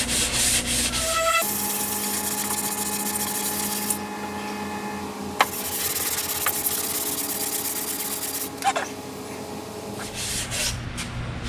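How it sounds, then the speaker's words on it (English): Filler on a beach buggy body being sanded with a hand sanding block, a continuous close rasping scrape with repeated strokes and occasional small knocks, no talking. "Once I sand this all down"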